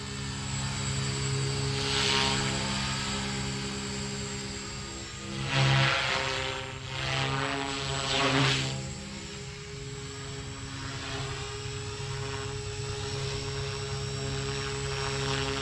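An Align T-Rex 300X RC helicopter on its maiden flight hovers nearby with a steady, high-pitched rotor and motor whine, swelling briefly twice as it maneuvers.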